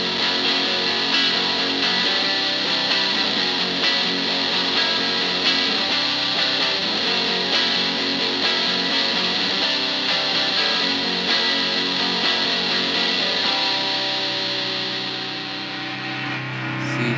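An electric guitar played through a distortion pedal with knobs boosting the mids, a thick, dense, continuous tone held loud and steady throughout, thinning slightly near the end.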